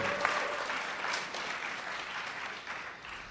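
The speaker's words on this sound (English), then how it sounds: "Give him a big round of applause." Audience applause at a live LUG Radio show event in the USA, 2008: a dense, steady wash of many hands clapping fills the whole stretch, moderately loud with no talk over it.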